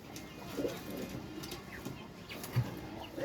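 Pigeons at a pigeon farm coo softly in short, intermittent bursts, faint and close, against a quiet background.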